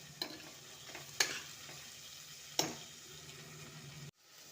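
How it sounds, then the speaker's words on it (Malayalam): Tomato and garlic sauté quietly in a pan under a soft sizzle, broken by three sharp stirring clicks before the sound cuts off. "പിന്നെ തക്കാളി, വെള്ളുള്ളി ഒക്കെ ഒന്ന് ഇട്ടിട്ട് നല്ല വതക്കിയെടുക്കുക"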